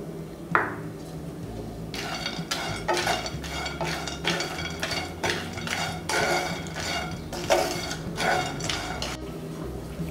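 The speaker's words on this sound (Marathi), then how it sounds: "तर गोडंबी भाजून घेऊया।" Cashews being dry-roasted in a pan with a spatula or spoon, a steady series of clattering metal scrapes and taps against the pan over a low background hum, with no talking.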